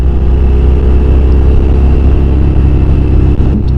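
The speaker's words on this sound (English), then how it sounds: "It comes with the Milwaukee 8114 engine, one of the bigger, stronger engines." A 2022 Harley-Davidson Fat Bob's Milwaukee-Eight 114 V-twin runs loud and close with a heavy, steady low rumble that barely changes in pitch.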